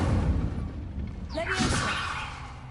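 Incendio fire spell cast in the video game Hogwarts Legacy on PS5, a sudden whooshing burst with a bright crackling flare midway, over steady game background noise.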